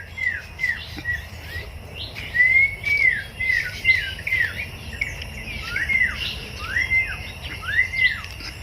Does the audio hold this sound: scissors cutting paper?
no